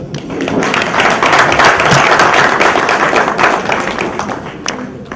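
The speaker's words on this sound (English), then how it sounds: "can you clap again for him?" Audience applause at an interfaith women's peace anniversary event, a dense, steady wash of many hands clapping that holds loud for about five seconds before easing slightly.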